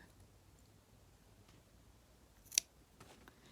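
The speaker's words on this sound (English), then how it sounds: "you take your scissors and you just clip it without going into the stitches" Scissors clipping sewn-down quilt fabric, faint and close, with one sharp snip standing out and a few softer clicks after it over quiet room background.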